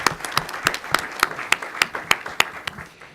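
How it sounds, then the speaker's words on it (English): An audience claps together, sharp hand claps overlapping into steady applause that thins out and stops near the end. "please give her a big clap for that"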